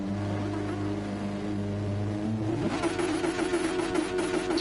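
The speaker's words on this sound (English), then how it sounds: "A lot of revs going off in the background." Racing car engines drone and rev at the start of a race in a racing video game from the FIA Nations Cup Series. A steady tonal hum climbs into a louder, rising revving roar as the cars launch.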